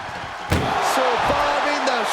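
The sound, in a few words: door being forced shut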